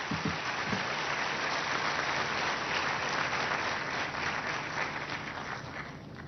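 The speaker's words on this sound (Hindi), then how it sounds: "एक बार जोरदार तालियां माननीय राष्ट्रपति महोदया के लिए।" Audience at a Women's Day event in New Delhi applauding the President, a steady dense wash of many hands clapping indoors, moderately distant and sustained throughout.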